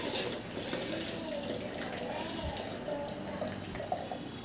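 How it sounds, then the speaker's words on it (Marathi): Boiled kantola (spiny gourd) is drained, the cooking water pouring and splashing continuously into a sink for several seconds, close and moderately soft. "तर हे आपण आता गाळून घेणार।"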